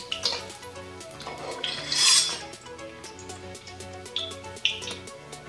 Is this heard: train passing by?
no